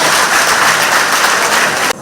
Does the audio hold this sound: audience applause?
yes